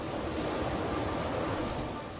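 A sailboat pounds through three-metre seas, steady loud rushing surf and wind noise with a constant churning wash throughout.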